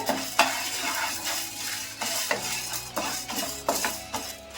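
Chana dal, urad dal, dried red chillies and tamarind dry-roast in a hot pan, with a spoon stirring and scraping in repeated sharp strokes over a soft, steady sizzle.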